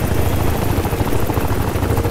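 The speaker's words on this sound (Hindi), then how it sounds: "तो ये जो हेलीकॉप्टर ऊपर की तरफ जा रही है." Helicopter flying in the video game Crysis 3, a loud constant rotor thrum and engine roar filling the whole stretch, close and unbroken with no talk.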